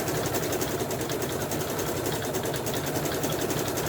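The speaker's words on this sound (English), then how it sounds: "This is a triple stitch that's going to go around, securing your vinyl." A sewing machine runs steadily while laying a triple stitch around vinyl, a continuous fast mechanical whir with a fine rapid needle rhythm and no pauses.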